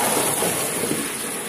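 Water and cooked food pour into a metal colander in a home kitchen as it drains, a steady broadband rush of splashing and trickling running close and loud from start to finish.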